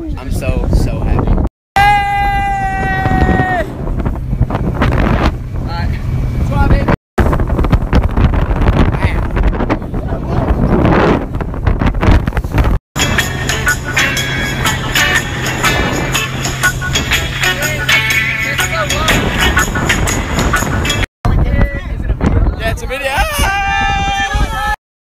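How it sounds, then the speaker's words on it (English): A jet ski ride in Hawaii on a morning outing, with strong wind buffeting the microphone and engine and water rush throughout, broken by brief cuts, while people whoop and talk over the noise. "Going jet skiing today this morning."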